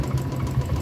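A Royal Enfield Bullet Standard 350 motorcycle engine with a fault runs steadily nearby, giving a low, continuous, slightly uneven thumping rumble with no voices over it.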